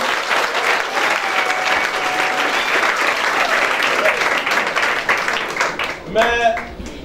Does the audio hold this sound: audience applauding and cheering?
yes